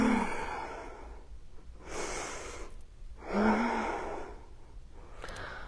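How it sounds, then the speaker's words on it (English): Slow, deliberate breaths through the nose during a bodyweight bootcamp workout, close and soft, with several long inhale and exhale cycles and a small sniff, without speech. "then you can breathe through your nose."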